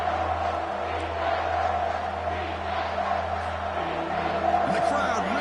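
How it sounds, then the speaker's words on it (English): A football stadium crowd roars as the defense tries for a stop near the goal line, a sustained distant wall of cheering with a commentator talking over it. "the crowd really making some noise now, trying to help out this defense to get this stop near the goal line"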